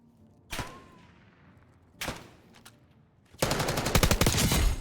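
Gunfire in the video game Black Ops 6: two single sharp shots, a brief pop, then a loud rapid burst of automatic fire to the end, with no voices.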